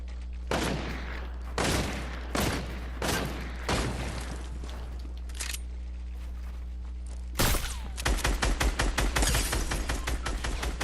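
Rapid bursts of gunfire in the Fortnite battle royale video game, several loud volleys of shots separated by short pauses, then a dense string of quick shots near the end.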